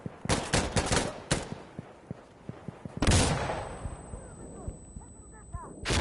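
Rapid bursts of 5.56 rifle fire in the tactical shooter Insurgency, sharp repeated cracks at first, then a loud blast with a long rolling echo and scattered distant shots, with a voice talking over parts of it.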